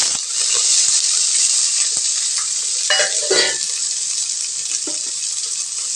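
Small shallots hit hot oil seasoned with mustard seeds in a pan for a bottle gourd dish, giving a steady, close sizzle with a few stirring scrapes and clinks, and no talking.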